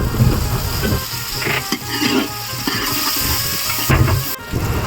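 Chopped tomato, onion, garlic and green chili frying in oil in a pan aboard a fishing boat, a steady loud sizzle with bursts of stirring and scraping, no voices.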